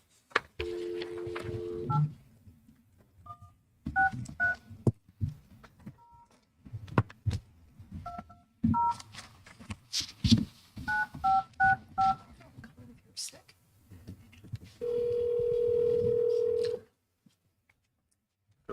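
Telephone keypad tones beep in short clusters as a number is dialed, followed by a steady ringback tone, with people talking intermittently between the beeps.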